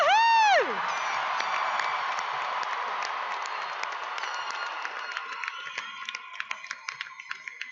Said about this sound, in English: Let's give all these graduates a huge round of applause.